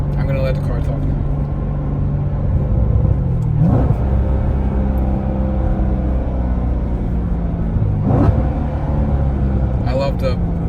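A 2017 Corvette Grand Sport's front-mounted engine rumbles in a deep, steady idle, close and loud, with two brief rises in revs partway through.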